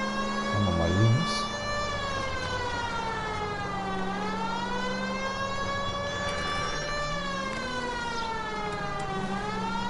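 A police car siren in the video game L.A. Noire, a wailing tone that rises and falls repeatedly and holds steady at a moderate level over car engine noise, with brief speech near the start.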